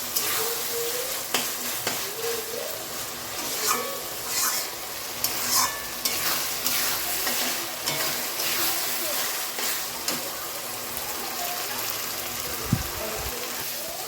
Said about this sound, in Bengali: আমি এবার চর্বিটা দিয়ে সুন্দর করে কষিয়ে নিচ্ছি।